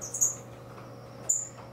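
Small birds in an aviary give two brief, bright chirps about a second apart, fairly faint over a steady low hum.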